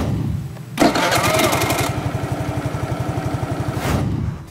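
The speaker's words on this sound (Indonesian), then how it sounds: "Sekali push start button langsung nyala. Tapi berisik banget." A scooter engine fires up abruptly from its push-start button and runs with a loud, rapid, steady chugging, settling into a rough idle before briefly revving again near the end.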